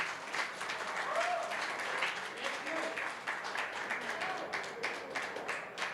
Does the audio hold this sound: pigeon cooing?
no